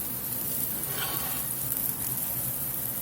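Louisiana-style blackened catfish fries in a smoking-hot pan, a steady, dense, close sizzle that runs unbroken throughout with no one speaking.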